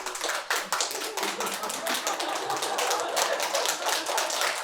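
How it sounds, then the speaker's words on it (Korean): Audience at a Buddhist dharma talk in a Seon meditation hall clapping throughout, a dense, steady patter of many hands at moderate level with no break. "박수는 마지막에"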